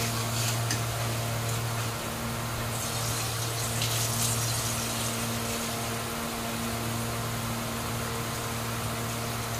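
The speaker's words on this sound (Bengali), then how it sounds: "এখন জল দিয়ে দিই" Water pours into a pan of fried cauliflower, a continuous rushing, hissing gush heard close and steady throughout, with a low mechanical hum running underneath.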